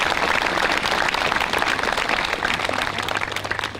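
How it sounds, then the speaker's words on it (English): Graduation audience applauding at a school ceremony, a steady wash of many hands clapping throughout, fairly loud and continuous with no voices over it. "please join me in a round of applause to thank these young people"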